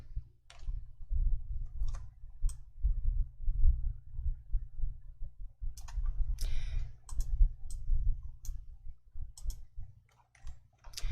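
Computer keyboard keys pressed for the Ctrl+1 format-cells shortcut in Excel, scattered light clicks and taps, close and quiet, irregularly spaced over a low hum.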